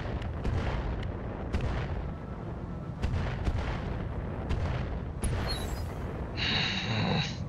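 Mech weapons fire in BattleTech, a run of heavy booming shots and blasts in irregular bursts, loud and close, ending with a high electronic whine.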